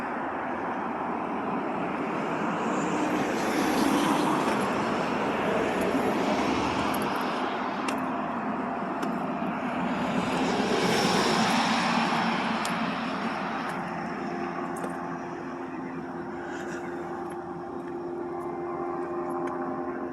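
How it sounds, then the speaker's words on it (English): A steady, broad engine drone overhead swells and fades slowly as a helicopter circles at a distance during an active shooter drill at a school, with no talking. "Helicopter circling around."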